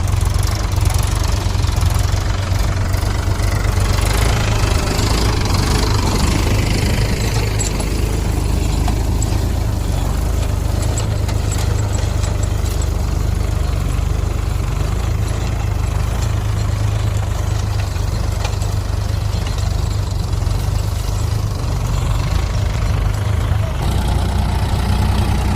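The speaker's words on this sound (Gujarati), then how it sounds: "હવે અમારા જયંતિભાઈ ખેડે છે" A tractor engine runs hard while plowing a field, a loud, close and continuous diesel rumble with a knocking, labouring tone that holds steady throughout, with no talking.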